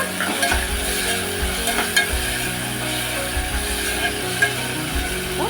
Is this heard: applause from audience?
no